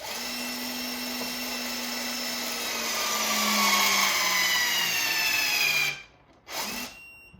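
HYtorc centerlock torque tool working a Porsche center-lock wheel nut, a steady loud pneumatic whirr and grind that backs off and retightens, its pitch shifting stepwise, then cutting out abruptly with a short final burst.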